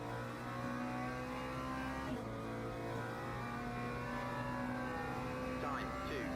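Hypercar engine in the Le Mans Ultimate racing game holding a steady high drone with shifting pitch lines, continuous and fairly loud throughout, with a voice talking over it.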